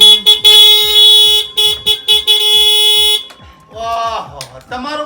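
A motorbike horn blares in long sustained honks, loud and close, then breaks off as voices talk over the scene.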